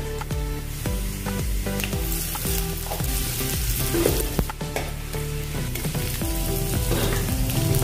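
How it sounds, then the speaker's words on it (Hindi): Half spoonfuls of mustard seeds and cumin plus asafoetida hit hot oil with a loud, continuous sizzle and spattering crackle, and a steady tonal backing runs underneath throughout. "अभी इसमें हम राई डालेंगे आधा चम्मच, और जीरा डाल देंगे आधा चम्मच, और हींग डालेंगे अभी।"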